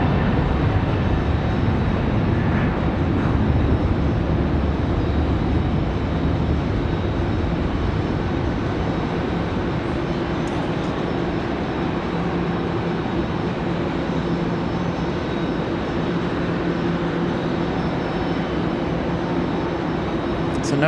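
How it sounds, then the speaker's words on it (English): At Raleigh-Durham International Airport, a Frontier Airlines jet goes around instead of landing, making a loud, steady roar of engine noise that stays strong and even from start to finish. "That Frontier Airlines not touching down."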